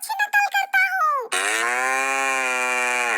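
A voice imitates a cow: a few short vocal bursts lead into a long, steady, loud drawn-out moo held for nearly two seconds.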